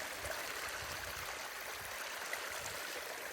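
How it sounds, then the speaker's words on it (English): Small babbling brook on a wooded hiking trail loop, a soft, steady broadband rush of flowing water, faint and even throughout with no voices. "Little babbling brook."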